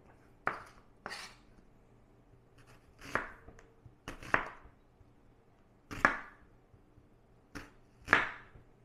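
A knife chops an onion on a cutting board in about eight sharp, uneven cuts spaced by short pauses. The cuts are close and clear, with no talking.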